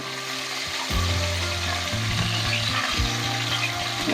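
Cauliflower pieces fry in hot oil at medium heat for a Bengali cauliflower and tangra fish dish, a steady close sizzle with scraping and clinking of a spatula against the pan.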